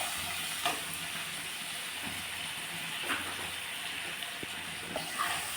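Cumin powder and ginger paste fry in a pan with a steady soft sizzling hiss, faint and continuous with a few small pops, no voices over it.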